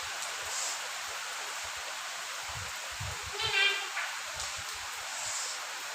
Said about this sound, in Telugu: ఎక్కువ వర్షం పడుతుంది బేటా